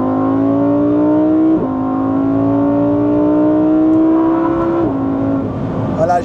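Lamborghini sports car engine held at a loud steady drone during hard acceleration, the pitch climbing through two gear changes before exhaust pops and crackles burst out at the end, heard from inside the cabin.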